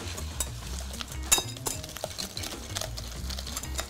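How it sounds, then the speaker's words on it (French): Whisking an egg mixture in a bowl for an apricot and coconut tart, a steady scraping and clinking stir with irregular taps of the whisk against the side, moderately close with no talk. "Et donc là on fouette notre mélange."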